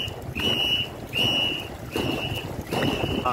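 Ghe ngo (Ngo Sro Lôn and Chén Kiểu long racing boats) paddled by a rowing team during practice on a river, with water splashing in a steady rhythm of strokes about once a second, heard close from the bow under wind noise.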